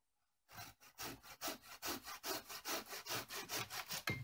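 A Silky pull-stroke hand saw with a 16-inch blade and 6.5 teeth per inch cuts through old down maple, giving a steady rhythm of about fifteen close, rasping strokes after a brief silence, with no speech.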